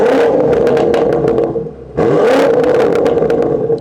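A BMW X5M engine revs in sport mode in two loud, throaty bursts with a short dip between them, close by and crackling, with no voices.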